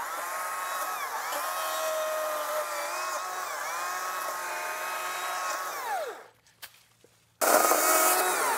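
A powered saw on a compact tractor setup bites into a barbed wire fence, a loud sustained whine with sliding pitch that drops out abruptly, a few short sharp clatters, then the motor surging back in.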